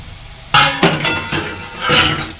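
A metal lid is lifted off a pan of potatoes frying for aloo posto, giving a few close, bright clinks and rattles with a light hiss of cooking beneath.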